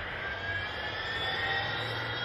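Mechagodzilla's main engine starts in a film sound effect, a sustained jet-like roar with a high whine, steady and loud throughout.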